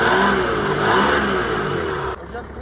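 A Mercedes E320 CDI estate's six-cylinder diesel engine revs loudly with a rough, steady, truck-like drone that swells and then drops off abruptly near the end.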